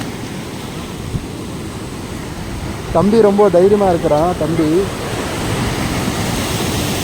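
Strong ocean waves at Cherai beach, Kerala, roar as a continuous broad wash of surf, with someone speaking clearly over it partway through.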